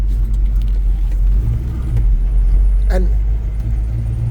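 A 1984 Chevy C10 pickup's engine runs with a steady, low rumble throughout, heard from inside the cab while someone talks over it.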